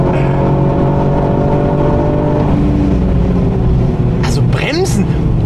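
A car driven hard around the Nürburgring track, its engine droning loud and close in a steady cabin roar as the pitch climbs and falls, with a voice briefly audible over it.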